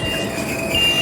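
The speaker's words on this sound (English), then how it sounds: "Here comes the" A train arriving at a station platform in China, rolling in with loud metallic wheel squeal and rumbling rail noise, heard close by and continuous over the short span.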